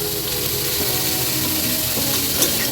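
Chopped tomatoes go into vegetable khichdi made with broken wheat (dalia) as it cooks in a pan, giving a steady, close, even sizzle of frying with soft stirring and no voices.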